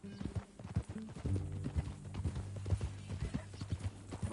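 Horse hooves clip-clop in a steady walking rhythm in Red Dead Redemption 2, close and clear over low background music, without talk.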